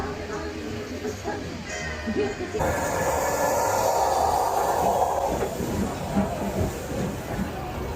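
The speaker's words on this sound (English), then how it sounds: "of course, steam trains" A steam train rumbles and hisses past at a platform during a 1940s-themed event, a loud swell of steady noise with faint clattering, while people talk in the background.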